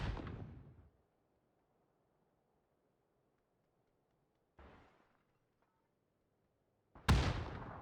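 Grenade blasts go off in a PUBG console esports match, a sharp explosive crack at the start and another near the end with a fainter burst between them, all separated by near silence.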